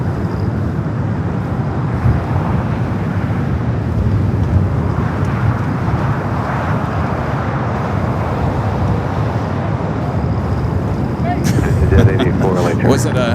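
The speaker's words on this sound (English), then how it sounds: "This flight heading to Atlanta, A321 Neo, flight 4316, in America's green Airline livery." An American Airlines Airbus A321neo in green livery roars past at Los Angeles International Airport, with a loud, steady broadband rumble that holds for the whole stretch and swells slightly near the end, plus some wind on the microphone.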